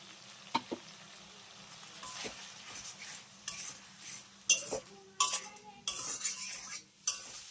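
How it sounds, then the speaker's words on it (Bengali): Spice paste with Kashmiri chilli powder and a splash of water is sautéed in a pan for an eggplant dish. A quiet sizzle runs under irregular spatula scrapes and metallic clinks against the pan, close up, with no talking. "এবার এই মশলার ভিতরে খুবই সামান্য একটু জল দিয়ে মশলাটাকে খুব ভালো করে একটু কষিয়ে নেব"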